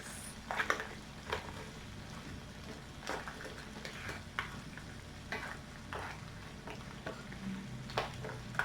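Seafood with crushed pepper stirs in a frying pan for a coconut-milk ginataang dish: soft, irregular scrapes and clatters of the utensil repeat over a faint, continuous sizzle, close and fairly quiet.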